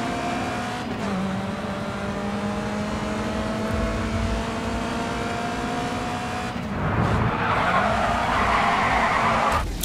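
Rear-wheel-drive race car in GRID 2 skidding with a loud, sustained engine drone, tires squealing as it slides, then a harsher scraping burst of tire noise and revving in the last few seconds.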